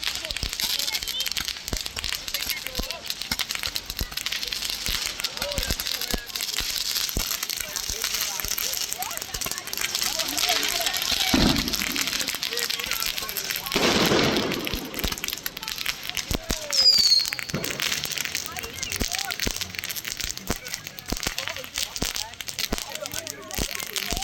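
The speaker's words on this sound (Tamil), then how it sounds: "பேக்ரவுண்டில் ஃபுல்லாகவே அந்த பட்டாசு சவுண்டு" Firecrackers going off throughout a Deepavali celebration in Little India, Malaysia, a constant crackle of pops from near and far over a noisy street crowd, with people and children talking.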